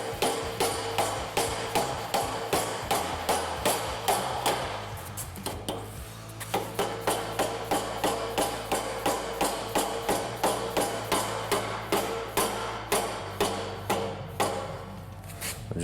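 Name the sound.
hammer tapping Ryder Rack BOLT parts into place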